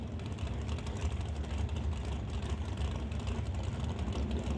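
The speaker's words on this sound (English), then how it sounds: "2 more dragsters rolling up now, backing up from their burnouts" Dragsters at a drag strip idle and roll back after their burnouts, a continuous low, heavy engine rumble heard at a moderate distance with no sharp bursts.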